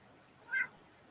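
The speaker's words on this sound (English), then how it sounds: "I got a cat here that's complaining." A complaining cat gives a single short meow midway, fairly close and clear over a quiet room background.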